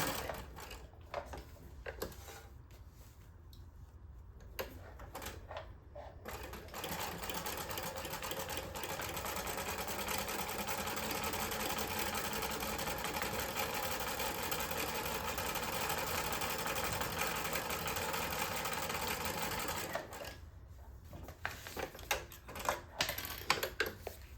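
A sewing machine runs in one continuous stretch of rapid mechanical whirring while stitching paper bags, with quieter stops and taps before and after.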